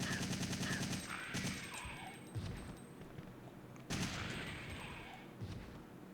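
Gunfire in Resident Evil 3: Nemesis sounds as quick bursts of shots at a moderate level, one cluster early and another near the middle, over a steady game background.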